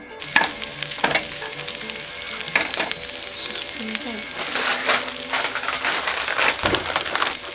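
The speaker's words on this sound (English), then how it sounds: "Just fry them up." Spicy black bean burgers frying in a pan, a loud crackling sizzle with scattered pops and the occasional scrape of a utensil.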